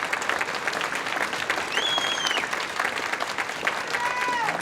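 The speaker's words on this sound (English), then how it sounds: "Let's give a round of applause and a thanks to the band directors of this school." An audience at an honor band concert applauds the school's band directors, a full, sustained round of clapping with a few cheers and whistles rising over it.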